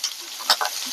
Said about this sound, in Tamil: அந்த பூண்டு வதங்கட்டும்